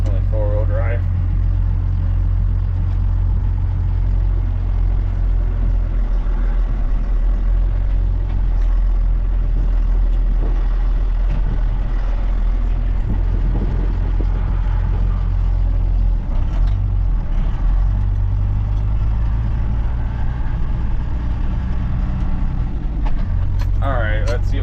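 A first-generation Cummins truck rolls along in four-wheel drive with an NV4500 transmission and NP205 transfer case, its steady low engine and drivetrain rumble filling the cab under ongoing talk.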